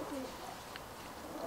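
A racing pigeon gives a soft, faint coo over a steady background hiss, heard briefly and alone.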